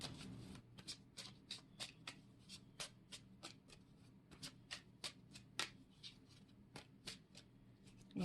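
Oracle cards are shuffled by hand at close range, a quiet rhythm of soft slapping riffles and flicks, about two per second, with no talking.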